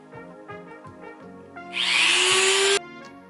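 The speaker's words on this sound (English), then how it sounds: "Now it's time for the Dremel." A small Dremel rotary tool with a sanding wheel whirs on with a high-pitched grinding buzz for about a second, then stops, over background music.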